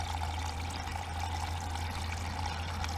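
Water pours and trickles steadily into a hydroponic ebb and flow tray as it fills, a continuous close splashing stream over a low pump hum, with no talking.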